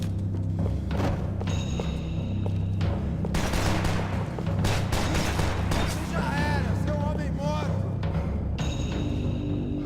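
Gunfire in the Max Payne 3 action game, with rapid bursts of shots and thuds over a busy, loud background of effects and music, while someone talks over the action.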